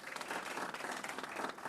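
Audience clapping at a county executive's public address on the government shutdown, a steady dense patter of many hands, fairly faint and distant, lasting under two seconds.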